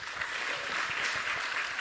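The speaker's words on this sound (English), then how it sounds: "Clap for Jeff." A crowd at a live political gathering claps steadily and evenly, a wash of applause of fairly low level with no other sounds on top.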